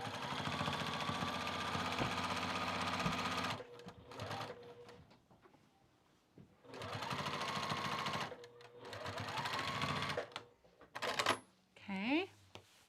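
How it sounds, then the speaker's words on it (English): A home sewing machine edge stitching overalls, its motor whirring in long steady runs broken by short pauses, with brief clinks and handling noises near the end. "I'm gonna just stitch this down, and I'm edge stitching, top stitching, whatever you want to call it."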